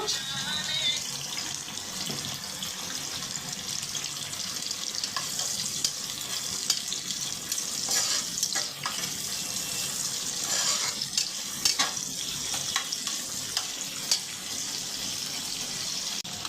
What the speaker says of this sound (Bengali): এখন আমরা শুটকি ছেড়ে দেব